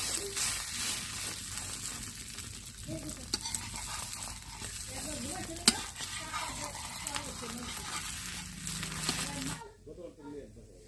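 Egg roll paratha frying in a pan: a continuous close sizzle with occasional scrapes and clinks of utensils, steady throughout and cutting off abruptly near the end.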